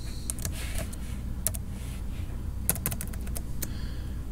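Fingers type on a computer keyboard in a steady run of soft key clacks, close and alone, with a few sharper louder strikes standing out.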